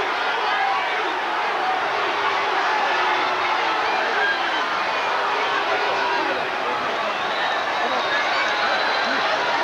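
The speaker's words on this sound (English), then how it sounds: "And the crowd wants it. The crowd wants to see it." Large wrestling crowd at a 1988 CWA event in Memphis keeps up a steady roar of cheering and excited chatter, dense and continuous from start to finish.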